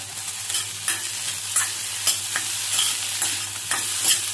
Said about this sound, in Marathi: एखाद मिनिट हे पण परतून घेऊया